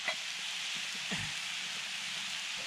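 Mushrooms, onions and garlic frying in a pan at an outdoor hilltop wild camp, giving a steady, close broadband sizzle with a brief scrape or stir partway through and no talking.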